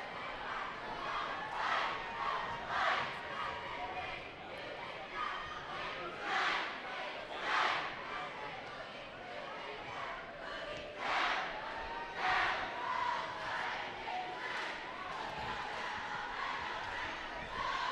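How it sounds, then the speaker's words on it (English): Home crowd at a high school basketball game between Washington Lee and Yorktown, a steady roar of noise with repeated swells of cheering and shouts, heard from within the stands. "And the home crowd, they are on their feet over at WNL."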